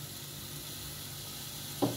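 Chopped onions frying in hot oil on a flat griddle, a constant close sizzle and hiss with a brief louder burst near the end.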